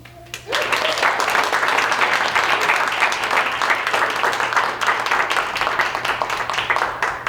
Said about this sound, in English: Please give a warm applause for Itzel.